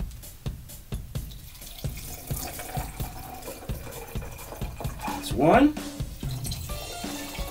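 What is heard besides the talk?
pouring spiked mango lemonade cooler into glasses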